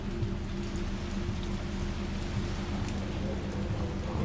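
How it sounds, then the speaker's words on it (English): Pouring rain in the video game Resident Evil 3 Remake, a steady, dense hiss of rainfall on surfaces holding at an even level throughout, with a low hum beneath it. "I could hear the pouring rain. Like a rainy afternoon."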